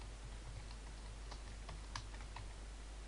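Keys on a computer keyboard are tapped as a username and password are entered, a short irregular run of soft, fairly close clicks over a steady background hum.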